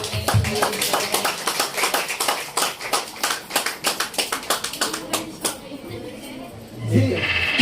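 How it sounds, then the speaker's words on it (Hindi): Clapping from guests at a constitutional wedding ceremony in a restaurant in Surat, a run of sharp rhythmic hand claps that tapers off after about five seconds, followed by a voice and faint background sounds. "एक बार दिल खोलकर तालियां बजाइए"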